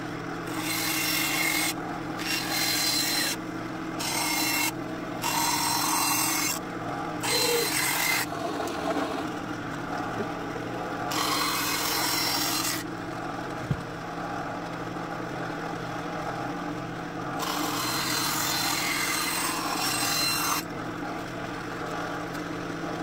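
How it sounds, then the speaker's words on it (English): Sanding and buffing the edges of wooden pieces, a steady close rasping rub that runs in repeated strokes with short pauses between passes. "buffed the edges, sanded everything"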